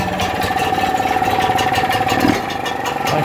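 Vire 12hp marine inboard engine running on test with water flowing through its exhaust, a close, steady rhythmic idle chug with a faint tonal whine, running alone without talk.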